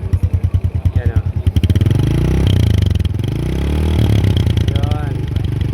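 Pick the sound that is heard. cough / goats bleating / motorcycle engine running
motorcycle engine running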